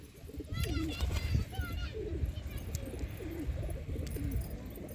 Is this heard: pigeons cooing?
yes